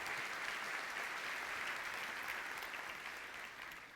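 A church congregation applauds during a sermon, a steady, dense roar of clapping from many hands, heard at a distance and tapering slightly near the end.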